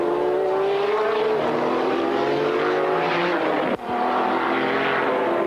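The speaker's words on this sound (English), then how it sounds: "5th is Belmondo's Ferrari F40 with our camera on board." Ferrari F40 GT racer screaming through its gears on track in the 1995 BPR Global GT Series at Jerez, with loud, sustained onboard engine howl and rising and falling pitch, plus a brief dip at a gear change.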